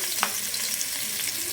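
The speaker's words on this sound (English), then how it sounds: "Next, put onion and chili inside pan." Onion and chili sizzle in a pan for a Chinese-style hot spicy noodle dish, a continuous bright hiss with a few soft stirring clicks, close up and steady.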